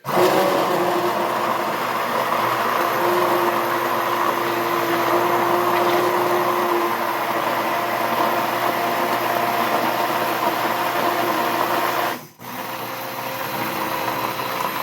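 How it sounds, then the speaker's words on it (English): A stick blender purees a fruit-based hot sauce, a loud steady motor whine holding for about twelve seconds before briefly cutting and starting again, with no talking. "And I'm going to hit it with a stick blender."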